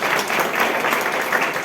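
Audience applause greets a teacher introduced during a school Reading Week event, a dense steady wash of many hands clapping, fairly loud and continuous throughout with no speech over it.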